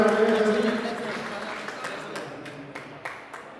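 Audience applause welcoming a speaker at a photography meeting in Naraingarh, a steady crowd clapping that starts full and gradually thins, with a few sharper claps near the end.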